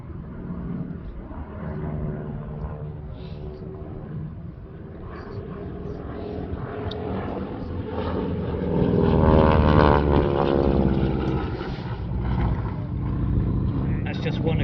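A North American AT-6 propeller trainer flies by at an air show at RAF Woodchurch, a steady engine drone that swells louder toward the middle as it passes, heard under continuous spoken commentary.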